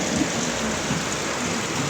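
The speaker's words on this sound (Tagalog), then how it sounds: "grabe bigla na lang bumuhos ng malakas napakalakas na ulan kanina pa" Heavy rain pouring steadily during a thunderstorm, a loud constant roar of falling water with a low rumble underneath and no voices.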